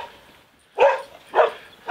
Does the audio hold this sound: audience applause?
no